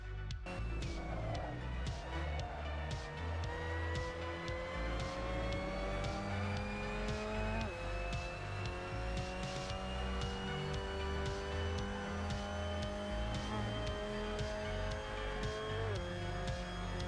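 A Mazda MX-5 Cup race car lapping Road Atlanta in the Assetto Corsa racing game: a continuous loud engine whine rising through the gears, with sharp drops at each shift and brief tire squeal. No voices.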